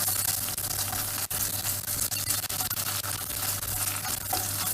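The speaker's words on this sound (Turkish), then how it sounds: "Şöyle karıştıracağım." Spicy sucuk breakfast mixture with tomato paste stirred in a frying pan, a close continuous sizzle with scraping and stirring strokes and no voices.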